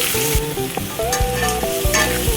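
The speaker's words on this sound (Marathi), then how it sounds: "आता कांदा आपण फ्राय करायचा आहे" Onion frying in a kadai with mustard seeds, cumin, curry leaves and asafoetida: a close, loud sizzle broken by quick scraping stirs of a spatula.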